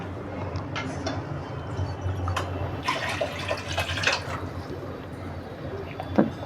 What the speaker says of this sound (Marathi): आता आपण दीड पाऊल पाणी टाकूया